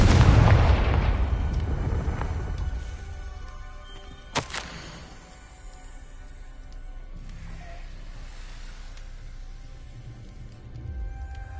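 A Confringo fire spell in Hogwarts Legacy goes off as a deep rumbling explosion that fades out over several seconds, followed by a short crackling burst and a low ambient hum.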